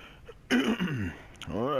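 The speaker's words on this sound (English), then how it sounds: "I will keep apologizing for clearing my throat so much." A man clears his throat once, a short rough rasp close to the microphone, followed by the start of voiced sound.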